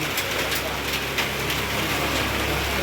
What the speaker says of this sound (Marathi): पाऊस पण फार चालू आहे हा बघा